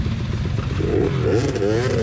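Dirt bike engines fire up together at a dead-engine shotgun start of a Hare Scramble race, a loud continuous motorcycle roar with rising revs and clatter, voices mixed in.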